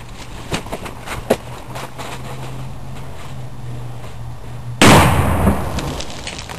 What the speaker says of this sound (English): Both tubes have a solute device in with 5 grams of flash powder. We're going to detonate them and see what the results are.